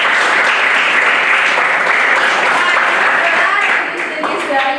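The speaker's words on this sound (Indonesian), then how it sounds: "Berikan tepuk tangan untuk teman-teman" Students in a classroom give their classmates a round of applause after a poetry lesson, a loud close burst of many hands clapping with children's voices mixed in, tapering near the end.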